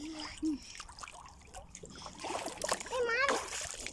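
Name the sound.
water splashing as children play in it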